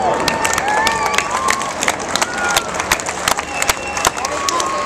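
A large crowd at a Red Arrows air show cheers and claps loudly and continuously, with dense applause and scattered whoops filling the whole stretch.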